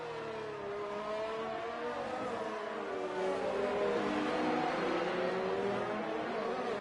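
A race car engine screams at high speed in a sim racing game on a Azerbaijan GP street circuit, a steady loud whine that rises and dips slightly as gears shift, sustained with no talk.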